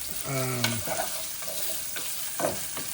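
Pork chorizo frying in a pan for Mexican molletes, a steady close sizzle broken by a few scraping stirs, with some brief tonal clatter near the start.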